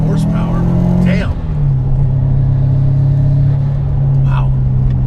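A Subaru Forester tuned past 500 horsepower rumbles at a steady idle, a loud continuous low drone with a brief dip in the middle, while people talk over it.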